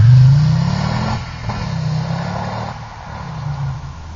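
A turbocharged five-cylinder Audi 200 Quattro Turbo accelerates with a throaty engine note that climbs, eases, then holds steady, close and fairly loud, with no talk over it.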